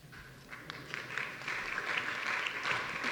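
Audience applause at a diversity week keynote greets a speaker, a soft, dense patter of many hands that starts thin and swells into a steady, moderately distant wash without voices.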